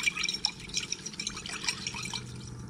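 Zinc-plated motorcycle spokes are rinsed in water after a blue chromate dip, with close, continuous trickling and splashing plus small dripping taps, moderately quiet.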